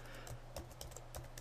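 Keystrokes on a computer keyboard tap out a short entry, quick irregular clicks close by over a quiet steady hum, with no voices.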